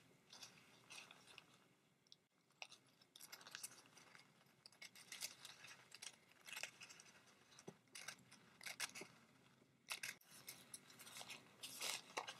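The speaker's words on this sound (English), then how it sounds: "So I'm just going to cut it right down the center here." Scissors snip through a thin Dollar Tree paper napkin in a quiet craft setting, giving a string of short, crisp cutting strokes at an irregular pace, close and fairly soft, with no talking.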